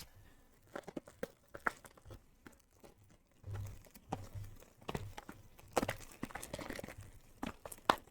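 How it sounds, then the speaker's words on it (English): Scissors scrape and tear at the tight wrapping on a box of Kayou trading cards from China, producing irregular scratchy crackles and crinkling bursts, close and fairly quiet, with no talking. "I'm scraping the box with my scissors."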